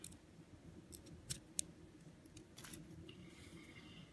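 Several quick, crisp scissor snips trimming beading threads, close by and fairly quiet, spaced irregularly over a low background hum, with no talking.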